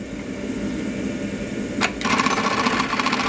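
A Juki LK1900BN industrial tacking sewing machine stitching leather belts, a steady mechanical hum that jumps into a louder, rapid rattling run partway through, close by with no talking.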